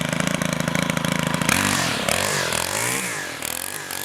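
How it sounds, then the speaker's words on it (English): A small two-stroke weed eater engine sputters and catches, then races with wavering revs close by, a buzzy continuous drone with no talk. "Now we're going to go over the proper process for starting a weed eater"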